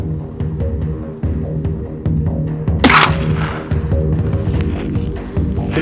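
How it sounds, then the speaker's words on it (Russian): A single sharp, loud smoothbore shotgun slug shot cracks out midway, ringing briefly over a steady low mechanical hum. "Еще выстрел."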